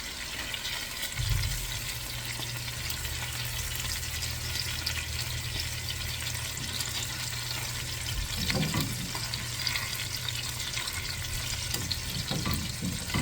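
Salmon sizzles steadily in a hot pan at home, turned onto its sides to cook, with a continuous close frying hiss and a few brief clunks and scrapes as pieces are moved, no voices.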